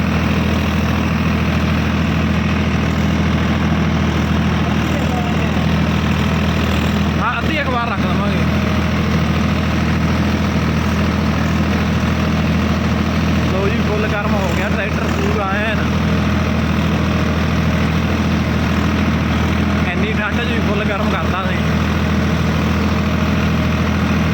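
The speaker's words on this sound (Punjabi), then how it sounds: "ਟਰੈਕਟਰ ਪੂਰਾ ਗਰਮ ਹੋ ਗਿਆ ਹੁਣ ਇਹ ਵਧੀਆ ਚੱਲੂਗਾ" A warmed-up tractor engine idles close by in a loud, steady, low rumbling drone that holds unchanged the whole time.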